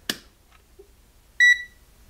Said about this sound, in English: when you change the dial position, it beeps at you.